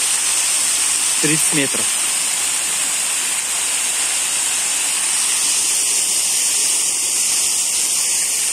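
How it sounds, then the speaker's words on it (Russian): Well water pours through a degassing rack for fish-farm water treatment, a constant loud rushing hiss that fills the scene from start to finish, with someone speaking briefly over it. "Вода идет со скважины"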